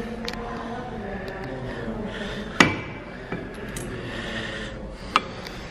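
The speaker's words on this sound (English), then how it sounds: "swung the hammer for me and minted one token." A hammer strikes a coin token at the Madrid money museum mint, a single sharp metallic strike ringing out once, with a couple of fainter knocks after it, against a steady murmur of room noise.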